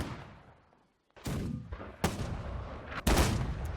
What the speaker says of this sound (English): Oh, that was an explosion on one of the guns.